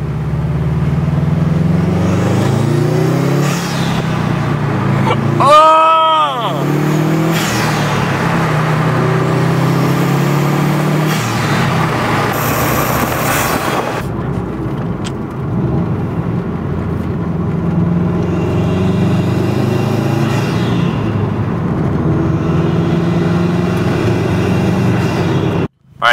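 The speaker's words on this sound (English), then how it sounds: "so you just heard some high speed driving" A car fitted with a Perrin short ram intake is driven at high speed, giving a loud, continuous engine and road roar with rising and falling revs, close inside the cabin, ending abruptly.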